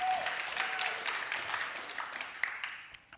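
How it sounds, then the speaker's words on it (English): An audience applauds a volunteer, a woman in pink pants, coming up on stage at a corporate festival talk. The clapping is moderate and steady, then fades toward the end, with a few sharper claps. "Awesome, round of applause"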